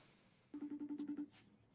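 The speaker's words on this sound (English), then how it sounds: "Who's making a phone call?" A short electronic telephone ring tone pulses about eight times in a quick even rhythm, clear but fairly quiet, with no talk over it.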